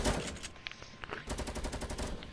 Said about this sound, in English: He's bombing me with the LMG.